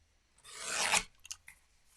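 A mini paper trimmer cuts cardstock, its blade making one quick, close rasping slide. A few soft clicks follow in an otherwise quiet setting.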